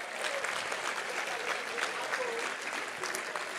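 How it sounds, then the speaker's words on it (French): Audience at a political speech in Marseille applauds steadily, a dense, sustained clapping from a large crowd heard at moderate distance without a break. "Je pense qu'on peut les remercier et les applaudir bien fort."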